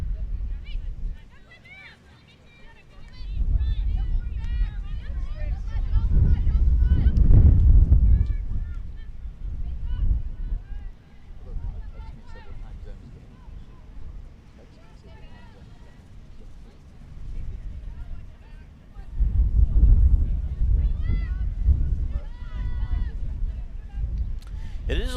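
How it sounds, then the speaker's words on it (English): Low rumbling gusts of wind buffet the field microphones at an outdoor soccer game, swelling loudly twice, while distant voices and crowd noise carry on underneath. "you might be able to hear that wind on our field mics too"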